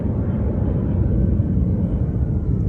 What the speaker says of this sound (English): It's a luxury to me to just sit in this beautiful field and watch the planes go by.